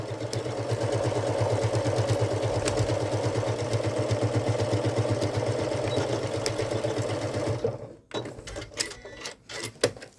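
A sewing machine stitches the side seam of a fabric Halloween treat bucket with a fast, even mechanical whir for about eight seconds, then stops, leaving a few light handling clicks and knocks.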